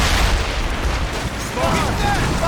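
Ship cannons firing during a naval battle in the 2014 game Assassin's Creed Rogue, dense rumbling booms layered into a loud continuous battle din, with shouting voices mixed in.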